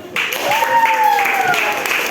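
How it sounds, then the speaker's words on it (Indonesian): Classroom applause from students, a brief burst of clapping that starts abruptly and carries on under a teacher's voice speaking over it. "Tepuk tangan untuk kita."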